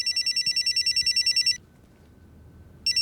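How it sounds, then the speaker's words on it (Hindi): A telephone bell rings in a rapid, trilling burst that pauses briefly and then starts again, loud and close over a quiet room. "गुरु का फोन है।"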